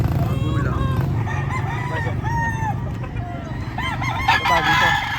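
A rooster crows repeatedly in a noisy yard, with other chickens clucking and fowl calling close by; the crows rise and fall over a constant low rumble.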